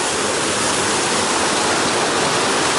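A creek along the Foothills Trail flows in a constant, even rush of water, close and steady throughout, with no voices.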